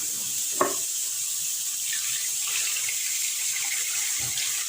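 Water poured from a tap over salted sesame seeds, a steady close hissing rush with a couple of faint knocks, no talk.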